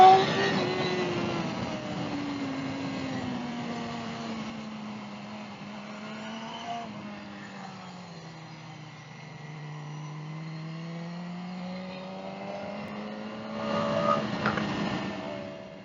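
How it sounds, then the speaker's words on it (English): Yamaha R1M sport motorcycle engine running steadily in traffic, a droning, gently rising and falling note that swells in pitch and loudness near the end, heard alone without talk. "That R1M sounds so sick."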